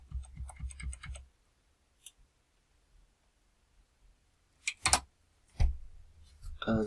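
Keyboard shortcut presses on a computer keyboard while editing layers in image software: a quick burst of several key taps, then a few isolated clicks and knocks spread out amid near silence, close and fairly soft.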